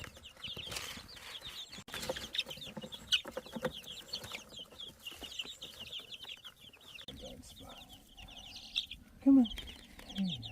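A young chicken is handled while its new feathers grow in, clucking and calling in short, repeated bursts at low volume, with rustling movement around it.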